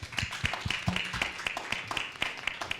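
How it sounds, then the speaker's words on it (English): A small audience at a youth pitch competition claps for a team, with distinct, fairly close individual claps coming in an irregular patter rather than a full roar. "Round of applause"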